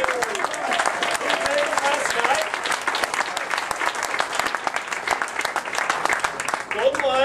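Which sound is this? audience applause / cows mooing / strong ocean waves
audience applause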